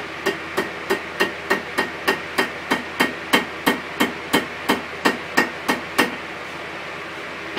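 A hammer strikes hot steel against the edge of an anvil while hand forging a steel leaf: about seventeen evenly paced, sharp ringing blows, close and loud, with no talk.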